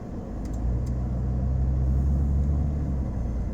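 Steady low road rumble and engine drone from inside a car driving on a busy multi-lane road, continuous and fairly loud with no talk.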